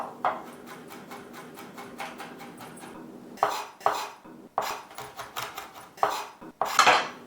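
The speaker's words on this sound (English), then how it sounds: "I like to chop it up by hand" Quick knife chops of garlic on a cutting board, a fast run of light taps followed by louder, irregular bursts of chopping, close up.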